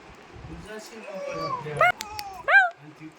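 A puppy lets out a few thin, high whimpers, two sharper cries near the end, while someone speaks softly to it.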